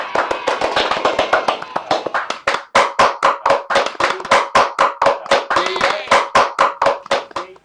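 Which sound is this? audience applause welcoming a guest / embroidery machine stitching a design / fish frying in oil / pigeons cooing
audience applause welcoming a guest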